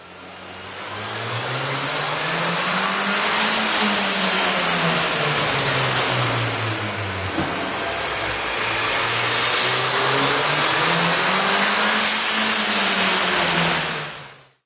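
A turbocharged 1.6L engine in a 2014 Ford Fiesta ST fitted with a K&N air intake revs loudly and continuously, its pitch rising and falling in long sweeps with a throaty intake roar throughout, no talking.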